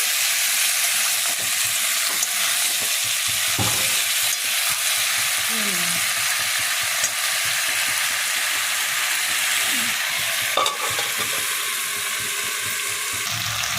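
Raw jackfruit frying with spice masala in a pan, a loud continuous hiss of sizzling oil with occasional scrapes and clinks of stirring.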